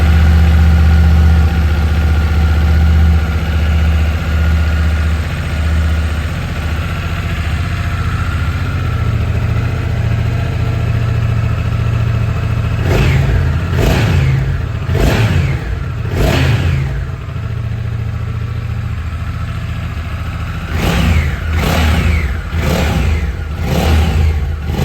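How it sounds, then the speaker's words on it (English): A 2025 Honda NT1100 DCT motorcycle with its Africa Twin parallel-twin engine idles with a loud, steady low burble, then gets a series of sharp revs in two bursts of blips, close to the bike. "So let's fire up this NT and have a listen."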